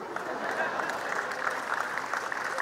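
Audience applause, a steady patter of many hands clapping at moderate volume throughout, with no pause in the clapping.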